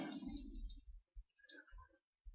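A couple of soft, faint mouse clicks on a button in flight simulator software, short and isolated in a quiet room.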